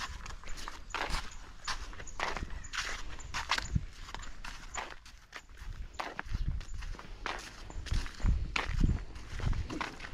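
Footsteps walk steadily outdoors in a rural Lao village, a run of close, distinct steps on the ground with a faint background hum and no talk.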